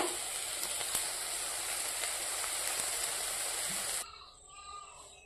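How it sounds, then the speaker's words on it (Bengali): Pointed gourd (potol) frying in a little oil in a frying pan gives a steady, loud, close hiss for about four seconds, then cuts off abruptly to near quiet. "পটলটাকে ভেজে নেব।"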